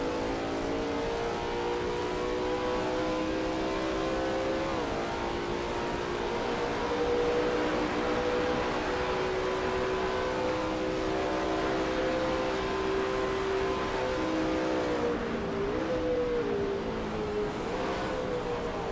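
Lola T70 MkII Spyder race car in a racing video game at Riverside, its engine droning at high revs on a flying lap, pitch rising and dipping through gear changes and corners, steady and loud, no talk.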